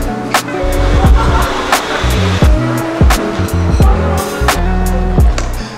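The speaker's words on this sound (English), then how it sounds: "there's already a traffic jam in Jonker Street" Busy street traffic on Jonker Street in Melaka, Malaysia, a steady rumble of idling and creeping vehicles with repeated engine surges and passing cars close by, no talk over it.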